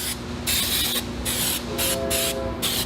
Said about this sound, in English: even spider web, kind of a fan, directional spray.